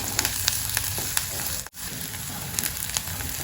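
Onions and curry leaves sauté in a pan for a Kerala-style cabbage thoran, giving a loud, continuous close-up sizzle with faint stirring scrapes that drops out for a moment and then resumes.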